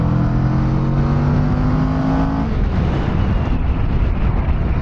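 A Kawasaki Vulcan S motorcycle on a group demo ride gives a loud, steady engine drone with rushing wind, holding pitch and then dissolving into broadband road and wind noise.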